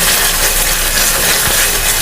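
Tomato sauce for party jollof rice frying in a pot, giving a steady loud sizzle and hiss with fine crackling spread evenly throughout, with no talking.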